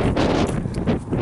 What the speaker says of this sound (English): hope you can hear me above this wind